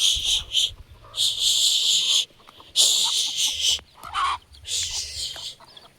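Backyard chickens clucking close by in repeated short bursts and bright squawks, with a soft voice briefly shushing among them.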